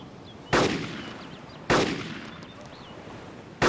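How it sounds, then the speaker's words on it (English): Three loud gunshots ring out in DayZ, spaced about a second apart and then two seconds, each a sharp blast with a decaying tail over quiet outdoor ambience. "I heard a shot."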